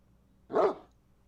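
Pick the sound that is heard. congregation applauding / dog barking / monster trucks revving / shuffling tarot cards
dog barking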